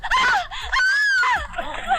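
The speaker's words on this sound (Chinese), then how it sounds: "后院传来了惨叫声" A scream from a backyard in a classic Hong Kong film: a woman's shrill, wavering cries rise and fall in two or three close bursts, loud and near.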